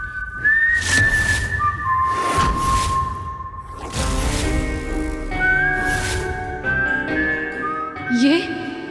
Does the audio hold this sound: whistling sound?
yes